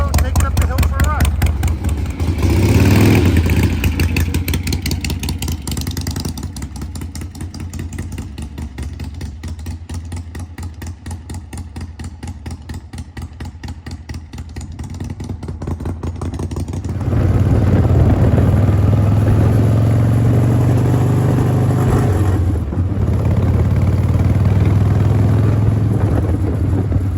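A motorcycle rides uphill with its engine droning and building in pitch as it shifts through gears. The engine runs steadily throughout and grows louder near the end, and someone talks over it at times.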